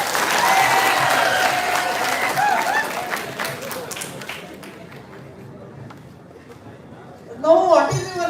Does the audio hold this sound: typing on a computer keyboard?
no